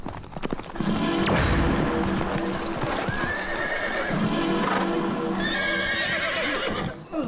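Horses drawing a chariot clop steadily and neigh loudly and close, the hoofbeats continuing throughout with whinnies rising over them and little else heard.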